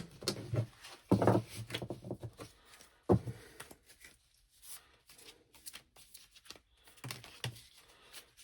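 A deck of tarot-style cards being shuffled and handled, with a few dense riffling bursts and soft flicks scattered between quieter pauses, close and fairly faint with no talking.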